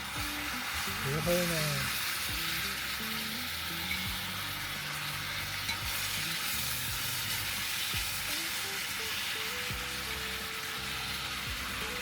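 Wine splashed into a hot pot of black bean chicken sets off a steady sizzle and hiss, with a sharper burst at the start and a voice speaking briefly over it.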